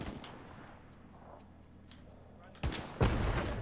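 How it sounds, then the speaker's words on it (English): Machine gun fire in the World War II shooter Hell Let Loose, at Sainte-Mère-Église: a muffled, distant rattle of shots under low ambience, then two sudden loud, close blasts near the end. "There's a machine gun out."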